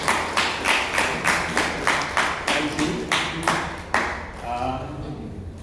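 A small audience at a hacker-mindset talk claps in a steady, evenly spaced rhythm of sharp, fairly close claps that fade out, with a brief spoken thanks at the end.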